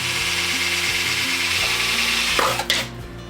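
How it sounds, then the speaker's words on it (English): A power drill bores an air hole in the top of a plastic jug with a screw-on lid, part of a budget chicken waterer: a steady whirring, buzzing drone for about three seconds that wavers in pitch and tapers off at the end. "you're going to have to put another hole in it up at the top"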